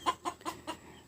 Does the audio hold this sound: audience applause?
no